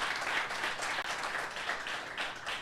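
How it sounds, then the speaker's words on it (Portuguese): A church congregation claps together during a sermon, a continuous full round of applause with a rapid, even texture that holds steady throughout, heard on its own without voices. "Aplauda Jesus."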